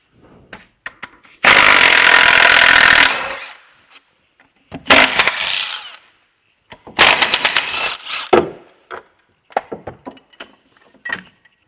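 A ratchet works loose gearbox bracket bolts on a Skoda Fabia during a clutch replacement, giving several loud, close bursts of rapid clicking separated by pauses, with scattered tool knocks between them.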